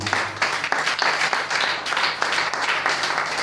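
A church congregation claps and cheers for Jesus, producing a dense, lively wash of applause with rhythmic swells that stays loud and continuous throughout.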